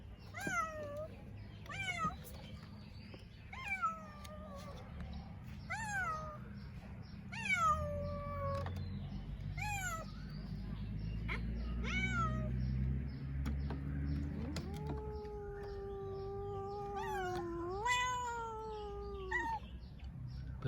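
A one-year-old cat outdoors on bare ground for the first time gives a series of clear, close meows, short calls at first, then a longer drawn-out wail near the end, over a low background rumble.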